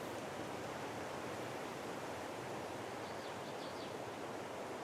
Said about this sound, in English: There we go, we've got some waterfalls now.